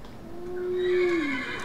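A single drawn-out whinny from a regular horse in Minecraft, rising and then trailing off, clear and close with no talking.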